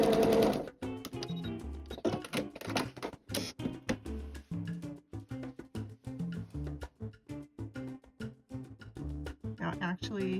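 A sewing machine stitches quilt pieces with rapid, rhythmic mechanical clicks and thumps that run steadily throughout, close and clear, with a voice talking over part of it.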